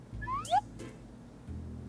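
Cartoon cat meows from the Brain Test mobile puzzle game, two or three short rising mewing calls in quick succession, fairly clear over a quiet low background hum.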